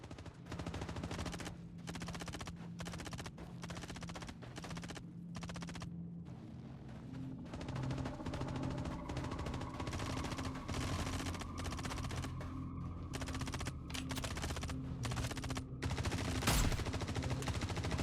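Rapid bursts of Star Citizen gunfire rattle in the middle distance, with long machine-gun strings and scattered single shots continuing steadily against a droning background hum.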